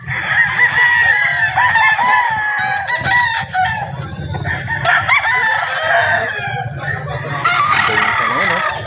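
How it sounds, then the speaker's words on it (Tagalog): Many chickens and roosters at a gamecock market in San Jose del Monte, Bulacan, crow and cluck loudly and continuously, overlapping calls filling the scene with faint crowd murmur underneath. "Daming manok dito."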